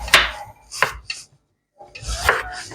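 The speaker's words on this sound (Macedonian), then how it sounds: "Морковот сечете го" A knife chops a carrot on a cutting board in a few quick strikes, pauses briefly, then resumes with a short burst of chopping.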